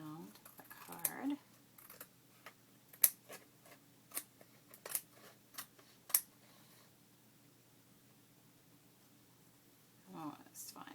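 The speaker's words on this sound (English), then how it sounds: "then I want to trim around the card" Scissors snip around a paper card in a crafting session, a series of sharp, close clicks and cuts spaced about a second apart, with brief quiet talk at the start and end.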